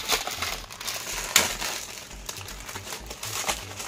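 Packaged kurti fabric being unfolded, giving soft, continuous crinkling and rustling of plastic wrap with one brief sharper crackle, fairly close and alone.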